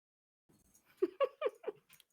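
A dog barks indoors several times in a quick, close run of sharp yelps, fairly loud against an otherwise quiet room.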